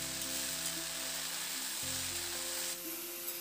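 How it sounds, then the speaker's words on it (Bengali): Water spinach and lentils cook in a pan, a soft steady sizzle with light scraping as the greens are stirred through; quiet and close, without talk. "এবার শাকটাকে ডালের সঙ্গে খুব ভালো করে নাড়াচাড়া করে একটু মিশিয়ে রান্না করে নেব।"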